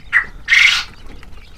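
Quails on a quail farm give two sharp, close calls: a short squawk followed by a longer, louder harsh cry, with quiet background noise between them.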